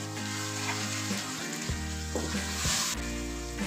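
Washed chicken hits hot oil and fries with coriander, giving a loud, dense sizzle with a few stirring scrapes and bumps, close up and with no talking.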